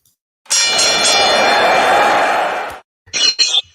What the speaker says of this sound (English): let me ring the bell, and we will get underway